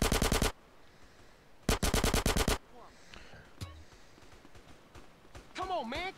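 Video-game gunfire in GTA San Andreas rattles out in two short automatic bursts a second apart, followed by quieter scattered sounds and a voice speaking near the end.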